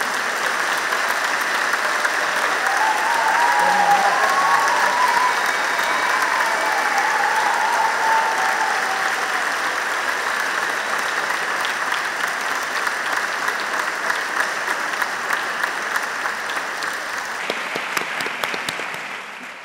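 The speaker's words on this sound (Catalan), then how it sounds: "un fort aplaudiment pels nous graduats, graduades, familiars, àvies," Sustained, loud applause from a large audience at a university graduation ceremony, a thick wash of clapping that holds steady for many seconds before thinning slightly toward the end.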